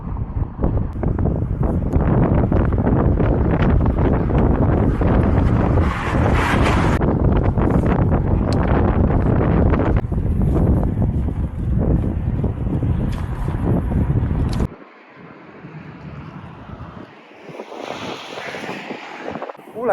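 Strong wind buffets a cyclist riding south through Ulanqab in Inner Mongolia, a loud continuous roar battering the microphone for most of the clip before easing to a lighter gusting rush.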